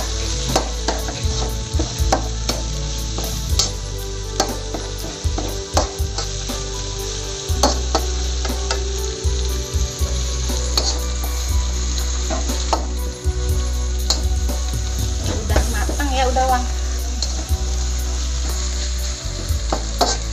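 Bay leaves, crushed lemongrass and galangal frying in a pan while being stirred, a loud, steady sizzle with repeated scrapes and knocks of the spatula, close up and unbroken by speech.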